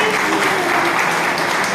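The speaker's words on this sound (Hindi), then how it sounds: "ताली बजाएंगे" Schoolchildren in a classroom clap for a classmate, a dense, loud burst of applause lasting under two seconds with no talk over it.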